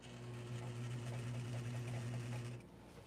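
Sewing machine stitching a dress seam, a steady close motor hum with rapid needle chatter running for over two seconds before stopping, with no talk.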